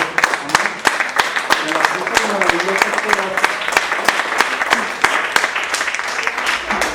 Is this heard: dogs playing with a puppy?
no